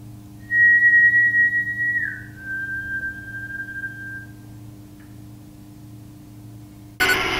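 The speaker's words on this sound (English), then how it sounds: "Can you copy me if I whistle?" A person whistles a single sustained note that slides down to a slightly lower pitch and holds, over a low steady hum, ending with a brief burst of noise.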